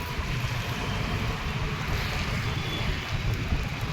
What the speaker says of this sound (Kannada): ತುಂಬ ಗಾಳಿ ಬರ್ತಿದೆ